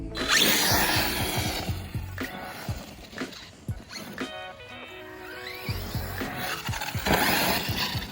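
A Traxxas Talion RC car, a little rough but still running with its ESC at punch level 6, drives fast with a whining electric motor that rises and falls in bursts, alongside clatter and rattling.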